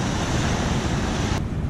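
Stormy, rough sea with heavy waves, a loud, dense roar of surf and wind noise filling the whole short stretch without pause, close to the microphone.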